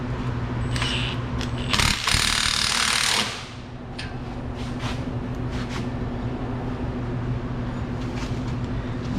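A ratchet tightening an aftermarket AWE exhaust bracket under a Dodge Challenger, with a loud burst of clicking and mechanical rattling near the start, then quieter scattered clicks and handling noise over a constant background hum.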